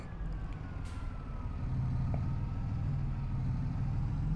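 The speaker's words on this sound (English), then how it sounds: "Hear the Massey's engine really having a little bit of a struggle." A Massey Ferguson tractor in Farming Simulator 25 drones steadily under a heavy load, its low engine rumble continuous and strained throughout, with a faint higher whine above it.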